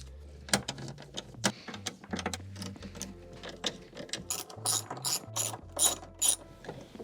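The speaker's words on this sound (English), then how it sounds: "actually let's bolt this back in." A ratchet clicks through a run of short strokes as it tightens a bolt inside a Range Rover L322, close and crisp, with bursts of rapid pawl ticks alternating with brief pauses.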